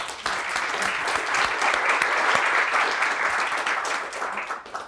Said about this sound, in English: Please, let's give a warm applause to our presenter.